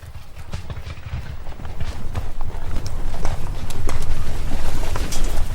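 Horses gallop in a steady clip-clop rhythm as soldiers on horseback charge, a documentary sound effect that builds from moderate to loud and close, with no voices.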